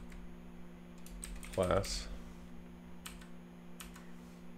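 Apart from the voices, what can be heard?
typing on a computer keyboard while writing code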